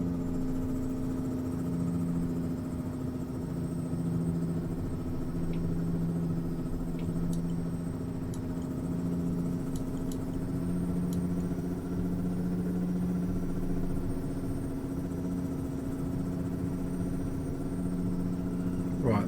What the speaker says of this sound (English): that's full engine brake at the moment